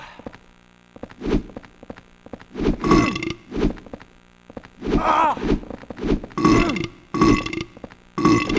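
Burp stars in Silent Hill 4: The Room let out a series of loud, rough, croaking burps in repeated bursts, spaced over a low background hum with soft thuds between them.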